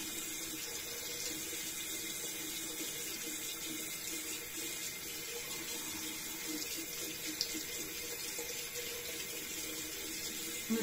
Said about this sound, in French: Il faut que je fasse couler pour que l'eau chaude arrive.